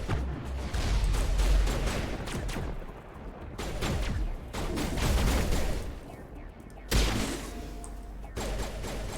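Gunfire from a Mass Effect sci-fi shooter battle: dense, repeated bursts of shots and impacts run nearly the whole stretch, loud and layered, with a brief lull before another sharp blast.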